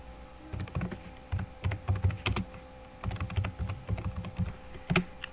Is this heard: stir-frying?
no